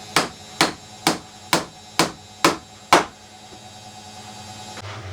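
A hammer drives the last nail into a piece of timber fixed to an existing roof truss with seven sharp, evenly spaced whacks, close and loud, followed by quiet room tone and a faint thump at the end.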